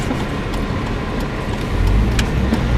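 Road traffic on a street along Australia's south coast, with a steady low rumble of engines and tyres as a car passes nearby, the sound growing slightly louder toward the end.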